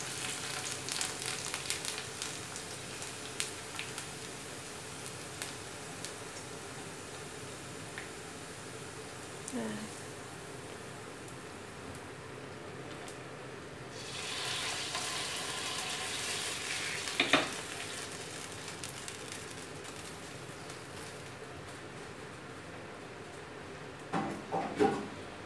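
Fried shallots tip into a pot of braised goby fish, setting off a steady sizzle and frying crackle that swells for a few seconds midway, with light stirring and clinks around it.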